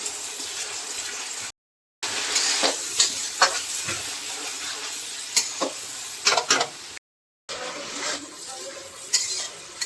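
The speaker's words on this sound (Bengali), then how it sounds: "পেঁয়াজ আর রসুন বাটাটা একটু কষিয়ে নিচ্ছি।" Onion, ginger and garlic paste sautéing in a pan for a chicken white gravy, with constant sizzling and repeated scraping stirs and utensil knocks, close and moderately loud, broken by two short silent gaps.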